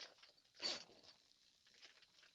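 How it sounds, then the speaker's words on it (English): A clothing zipper gives one short, quick rasp outdoors on a wilderness trip, a brief close burst standing out above otherwise quiet background. "no, that's the zipper."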